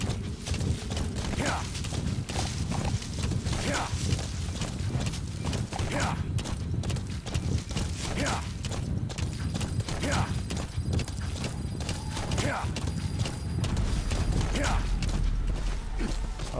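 Steady clip-clop of horse hooves at a walking pace in the video game Metal Gear Solid V: The Phantom Pain, with faint creaking and an occasional snort over continuous background rumble.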